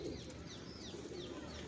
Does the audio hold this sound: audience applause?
no